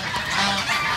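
Ducks and geese honking and quacking together at a bird enclosure, a dense, loud, continuous chorus of overlapping calls close by.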